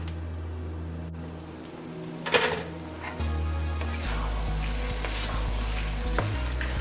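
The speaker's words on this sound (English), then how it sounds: "I'm gonna add the wiri peppers and cook for 5 more minutes." Mutton and squash curry with wiri peppers sizzling and frying in a pot, with a few clattering stir sounds and a sharp burst partway through, steady and close with no talk.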